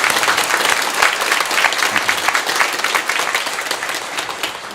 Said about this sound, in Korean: 부활하신 주님께 다시 한번 감사의 영광 박수 함께 올려드릴까요?